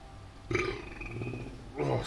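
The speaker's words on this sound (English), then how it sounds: "I'm going to be burping a lot this stream too" A man lets out a loud, drawn-out burp lasting over a second, followed by a shorter second belch, close to the mic with no other sounds around them.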